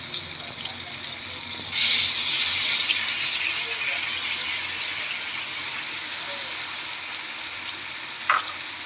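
Green peas, 250 grams, with garlic, ginger paste and spring onion greens hiss and sizzle in a hot pan as they are stirred, a steady close frying noise that swells abruptly and then eases, under a talking voice.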